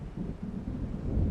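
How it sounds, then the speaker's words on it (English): Low, distant thunder rumbling from an approaching storm in the video game Alan Wake Remastered, a brief, steady murmur with wind noise. "It seems there's a storm coming."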